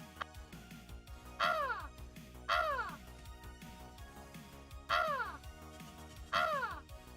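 A seagull-call stream emote, four loud harsh squawking calls at roughly even intervals over a background of clicks and faint music-like tones.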